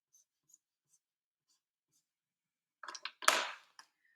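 A pen scratches across paper as a table is drawn, with a few faint ticks first and then a short cluster of louder close strokes, heard alone in a quiet room.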